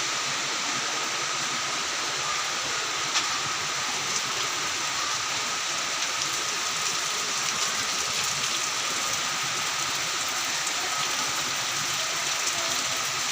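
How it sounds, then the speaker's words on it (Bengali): Steady rain patters without pause on an empty campus, a dense even hiss with scattered close drops, fairly loud throughout and no voices. "রিমঝিম রিমঝিম বৃষ্টি।"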